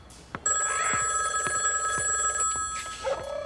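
A telephone rings in a home with a steady electronic bell tone sustained for several seconds, loud and close, with a few faint clicks and a brief soft noise near the end.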